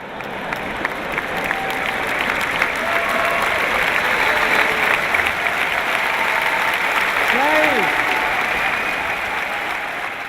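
Sustained applause and clapping from a large seminar audience in India roll on steadily for about ten seconds, with scattered voices and faint cheers mixed into the crowd noise.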